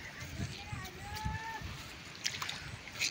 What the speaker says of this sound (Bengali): জল নামছে জমি থেকে